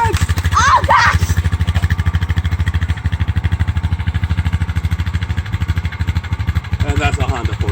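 Honda Foreman 500 ATV engine running close by with a steady, rapid thumping idle pulse; brief voices cut in at the beginning and again near the end.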